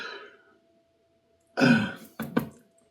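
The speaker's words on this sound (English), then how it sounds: "Sorry, I've been burping a lot lately." Two loud, throaty burps follow a stretch of silence, the first long and rumbling, the second shorter and choppier.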